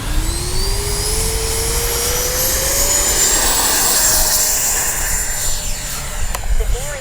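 A Freewing 90mm J-10 RC jet takes off left to right with a loud, steady turbine whine and rising pitch, high hissing roar building as it passes and accelerates away.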